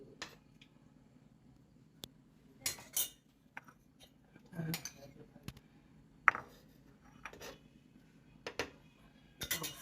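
Metal spoon clinks and scrapes while scooping ghee in a home kitchen, a handful of sharp, close taps scattered among quieter pauses.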